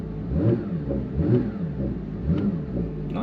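A Porsche 911 GT3 of the 992.1 generation, set to track mode, revs its engine in three or four quick throttle blips that rise and fall over a steady idle, close and loud with no talk.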